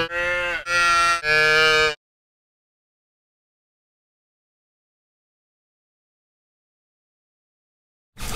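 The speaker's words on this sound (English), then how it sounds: "Those cows can sing." Cattle mooing in three loud, drawn-out calls in quick succession, then a long silence before a brief burst at the very end.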